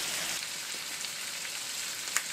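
Tomatoes fry in a frying pan with a steady, soft crackling sizzle that lasts throughout, with one brief sharp pop near the end and no voices.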